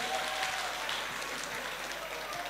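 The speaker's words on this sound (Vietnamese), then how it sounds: "một tràng vỗ tay cho đội số 2" An audience claps for team 2 at a Bible quiz final, a brief, steady round of applause that is moderately loud and fairly even throughout.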